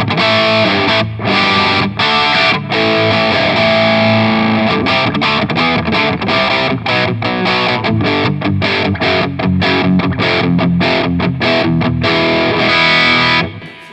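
Electric guitar run through a Suhr Riot distortion pedal, giving a punchy vintage Marshall-style crunch; loud, continuous driven chords and riffs with brief choked gaps, played alone without talk.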